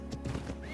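An Equus horse in the video game Ark: Survival Evolved, on the Ragnarok map, gives a brief, fairly close whinny with a faint clop of hooves underneath.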